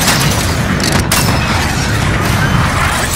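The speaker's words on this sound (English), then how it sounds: "cruise missile away." A cruise missile strike in Call of Duty Modern Warfare multiplayer gameplay makes a loud, sustained rumbling roar of blast and debris that fills the whole stretch, with a sharper crack about a second in.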